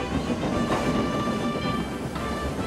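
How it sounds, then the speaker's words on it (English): Train noise from a cartoon tank engine hauling a line of trucks, a steady rolling rumble with faint rhythmic clatter that runs throughout, heard alone without talk. "James was soon coupled to a line of trucks and puffed away."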